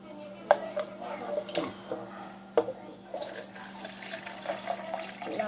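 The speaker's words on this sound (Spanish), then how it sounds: "primero vamos a echar el agua." Water being poured for homemade lemonade, a soft running splash with a few sharper drips and clinks, close by and fairly quiet, with a voice speaking intermittently over it.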